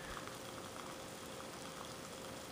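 Water boiling over a small alcohol stove made from a tartar sauce holder, a faint steady hiss and bubbling roar with no breaks.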